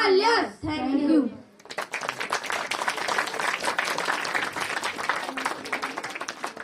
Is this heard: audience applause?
yes